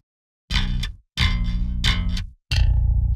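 A heavy, brutal bass guitar tone runs through distortion, compressor and gate, playing four loud, gritty chugs with abrupt gated cut-offs and short silences between them.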